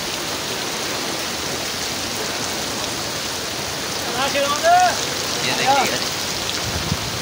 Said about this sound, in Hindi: देखिए बारिश में भीग के जाना पड़ेगा।